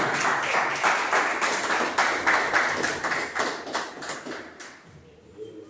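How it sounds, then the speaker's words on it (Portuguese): A church congregation applauds for Jesus, with steady rhythmic clapping from many hands that fades toward the end, a moderately loud sound in a reverberant room with no voices. "uma salva de palmas para Jesus."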